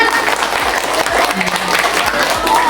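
Children at a tahfizh school clap for a classmate during a Ramadan storytelling session, a lively, close burst of applause with some voices mixed in.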